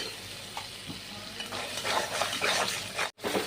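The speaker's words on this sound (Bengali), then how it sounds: "সব মশলাগুলো এবার ভালো করে কষিয়ে নিতে হবে।" Ground turmeric, chilli, cumin and coriander with ginger and salt stir-fried in a pan for a rohu fish curry with cauliflower, giving a steady close sizzle broken by repeated scraping stirs of a spatula.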